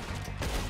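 Gunfire from the Western video game Red Dead Redemption 2, a short burst of game sound with a dense, loud crack layered over a continuous mix of music and ambience.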